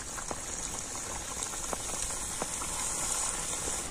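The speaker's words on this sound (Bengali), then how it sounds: "এইভাবে আমি বাকি নাস্তাগুলো ভেজে নেব" Snacks made from wheat flour dough deep-fry in hot oil, a close, continuous bubbling hiss with scattered sharper pops and crackles throughout.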